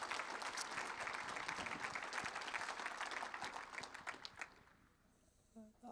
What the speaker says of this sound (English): So can we just give a round of applause to the team for the great work this week.